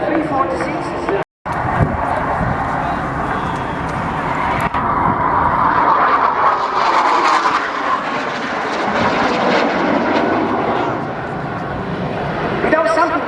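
M-346 Master jet trainer flying at the RIAT 2024 airshow, a loud, sustained jet roar that swells as it passes overhead, with a commentator talking over it.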